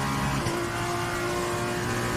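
An F2 race car engine in the Xbox F1 game drones steadily through the final corner of a Spanish circuit, a dense, sustained high-revving whine with a slight pitch shift as it passes.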